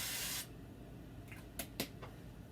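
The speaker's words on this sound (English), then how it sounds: "I am spraying my Dutch oven with a little cooking spray." A can of cooking spray hisses in one steady burst lasting under half a second as it coats a Dutch oven. A few faint clicks and knocks from handling the can follow.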